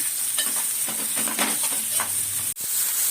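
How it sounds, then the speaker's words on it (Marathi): Onion and green chilli sautéing in a pan for vermicelli upma on medium heat, a steady bright sizzle with soft stirring scrapes, close and continuous, no voices. "आता कांदा आणि मिरची टाकले मिरची तुमच्या आवडीनुसार टाका आता हे दोन्ही चांगलं परतवून घेऊया"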